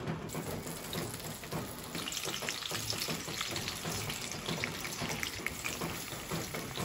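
Meat frying in a pan for afritada, a steady close crackling sizzle with dense popping spatter that continues evenly throughout, with no talking.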